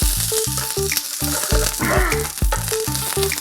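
A bullseye fried egg sizzling loudly in a pan, a continuous close crackle overlaid with a regular repeating tonal beeping pattern throughout, no talking.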